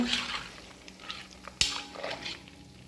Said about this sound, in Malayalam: ഓഫ് ചെയ്തതിന് ശേഷവും ഒരു 2 മിനിറ്റ് ഇങ്ങനെ ഇളക്കി കൊടുക്കണം.